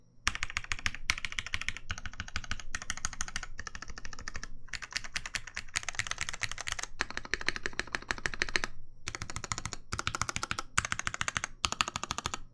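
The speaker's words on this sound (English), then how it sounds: "See if it sounds like a keyboard truly" Typing on a Singa Jaguar keyboard fitted with Cherry MX Black switches, bursts of crisp, close keystrokes in quick runs separated by short pauses, with no talking.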